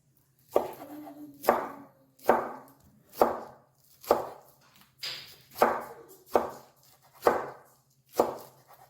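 Greens are chopped with a knife on a cutting board in a home kitchen: about ten crisp, evenly spaced chops, roughly one per second, close and distinct over a faint low hum.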